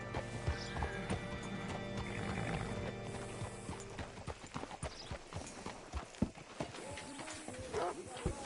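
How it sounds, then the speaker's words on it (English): Horse hooves clip-clop in the video game Red Dead Redemption 2, with a neigh early on among music and game ambience, then irregular hoof thuds and steps as the horse slows and stops. "Hitch your horse up here"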